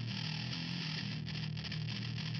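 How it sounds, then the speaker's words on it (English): A thick, distorted bass line from a doubled bass guitar plays steadily and loud, its low notes layered with a gritty, buzzing edge that fills the whole clip without pause. "Then I double that and put some distortion on it."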